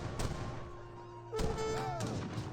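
Cannoneers firing in an Age of Empires 3 battle: a few dull booming cannon shots thud at irregular intervals over the low din of game music and the clatter of combat.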